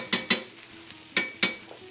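A utensil stirs a charred Hatch green chile mixture in a pan, giving four sharp scraping clinks in two quick pairs, close and clear over a faint background.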